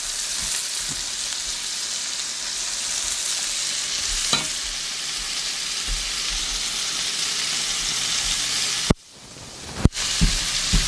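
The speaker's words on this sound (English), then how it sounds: "So chicken is cooking here, and we'll check this sauce. I'm cooking this for medium heat." Chicken and sauce cook on a stove at medium heat, giving a steady frying sizzle and hiss, with a few stirring knocks and clinks near the end.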